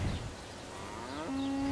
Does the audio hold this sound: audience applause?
no